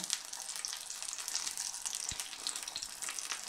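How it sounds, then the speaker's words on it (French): Tomato slices frying in a pan give a steady, fairly quiet hiss and crackle of sizzling oil that runs throughout, with a couple of soft low knocks. "On va les faire rôtir un petit peu, là on va les poêler."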